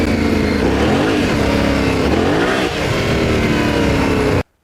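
A Yamaha Tenere 700 adventure motorcycle off road, its engine rising and falling in pitch as the throttle opens and closes, loud and close, cutting off abruptly at the end.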